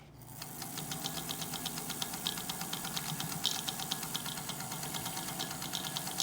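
A 70-year-old Singer 201 Centennial limited-edition sewing machine running quietly, a soft steady whir with a fast, even ticking of the needle mechanism throughout, close and alone.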